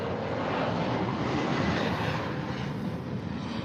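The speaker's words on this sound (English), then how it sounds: "The plane, the plane." An airplane passes overhead outdoors, a steady, loud, broad roar that holds for several seconds with no one speaking.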